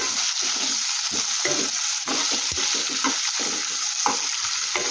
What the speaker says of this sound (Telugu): ఇది చూసారా దోరగా వేగుతూ ఉంది